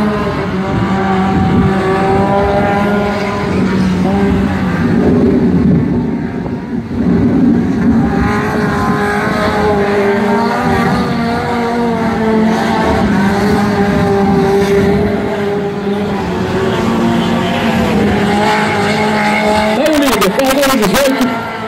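Race cars in the light category run on a dirt speedway at Barródromo de Jacaraípe, with steady engine drone and revving throughout. Tire noise comes through beneath a commentator talking continuously over the action.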